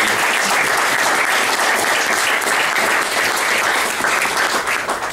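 Audience applause fills a hall during a hall of fame induction speech, a steady dense wash of clapping at full loudness throughout, with no voices standing out.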